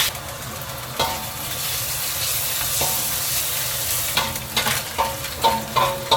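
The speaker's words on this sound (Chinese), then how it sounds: "保持中小火慢慢煸炒。" Steady, loud sizzling of minced pork frying over medium-low heat in a wok, with occasional scraping stirs and clanks of a spatula toward the end.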